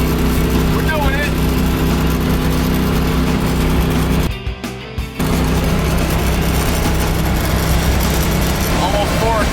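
An old farm truck cruises on the highway at about 63 mph with the windows open. Its engine and road roar are loud, close and steady, with a brief dip partway through.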